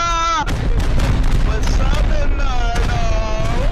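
Bombs exploding in the video game Rust, repeated booming blasts under constant loud background noise, with voices talking over them.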